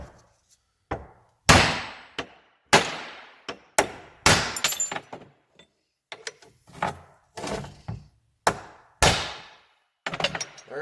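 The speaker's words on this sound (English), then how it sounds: "Put it on your big socket so it can go through, and then just start hitting." Repeated hammer blows drive a Dana 60 front axle cap out through a large socket, sharp metallic strikes landing in irregular bursts with short pauses between, loud and close with no talking.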